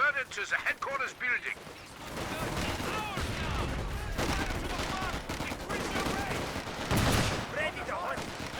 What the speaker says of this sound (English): Oh, there goes the machine gun.